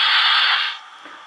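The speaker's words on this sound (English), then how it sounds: "Steam release." Steam release hiss from a Märklin BR 01 model steam locomotive (39009, blue), a short loud burst of broadband hiss that fades out after under a second, heard alone.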